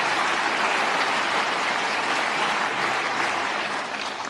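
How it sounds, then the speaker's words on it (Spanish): Dense audience applause fills a large hall, loud and continuous like rain on a roof, holding steady before easing slightly in the last second. "Mira Meloni, como aplaude, con qué desgana."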